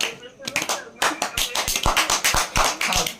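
Hands clapping at a birthday celebration: a run of sharp, quick claps in an uneven rhythm, close and fairly loud, with people talking over them.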